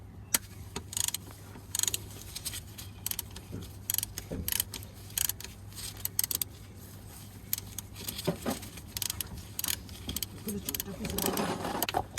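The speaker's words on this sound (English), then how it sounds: "Now I'm gonna remove the 10mm bolt." Irregular bursts of ratchet clicking as a 10mm bolt is loosened on the starter motor of a Ford Transit Connect, with handling clatter over a low steady hum.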